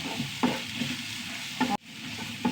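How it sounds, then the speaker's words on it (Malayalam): Tomato sautéing in a pan, a soft continuous sizzle broken by a few spoon-scraping stirs, with a brief drop in sound partway through. "നന്നായി പൊടിയായി വരുന്നു തക്കാളി ഒന്ന് വഴണ്ട് വരട്ടെ"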